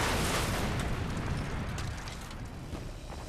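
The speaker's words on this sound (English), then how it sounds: "The wounded Focke-Wulf hits the ground in a brilliant explosion." A Focke-Wulf 190 fighter plane crashes into the ground in an explosion, heard as a loud, sustained broadband roar and rumble that slowly eases over a few seconds, with no voices.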